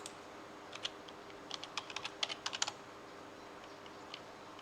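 Calculator buttons are pressed in a quick series of light, close clicks, with a few isolated taps before and after. The clicks sound faint against a quiet room, with no talking.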